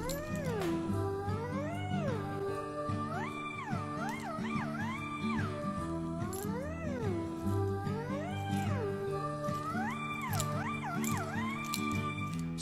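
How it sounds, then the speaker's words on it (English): A black cat meows repeatedly in rising and falling tones over steady background music, the calls coming close and clear in a loose, irregular rhythm with no speech. "Oh no, it's a black cat."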